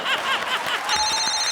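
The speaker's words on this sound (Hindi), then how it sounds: "एक मिनट फोन आ गया अपन को." A telephone rings on a comedy show stage, a brief electronic ringtone starting partway through after a burst of voices and laughter.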